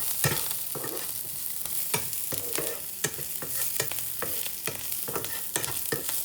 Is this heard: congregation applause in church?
no